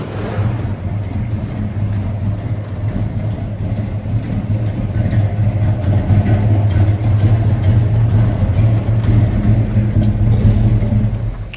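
A 1966 Chevrolet Chevelle engine idles close by, a loud steady low rumble with a smooth continuous throb that swells slightly midway, with no voices over it.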